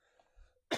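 A single short, sharp cough from a person with a mild cold lands at the very end, after a near-silent pause with faint low rumble.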